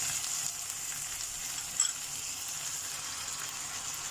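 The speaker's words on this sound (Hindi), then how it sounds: "अब कीमा को इसी में भूनना है" Minced meat (keema) frying with onions in a pan, a soft, even sizzle with an occasional faint stir or clink, quiet and close with no voices.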